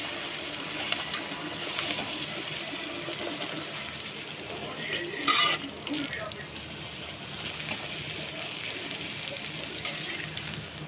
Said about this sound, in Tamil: நம்ம இப்போ எண்ணெயில் பொரிக்க வேண்டியது தான் ஃப்ரெண்ட்ஸ்.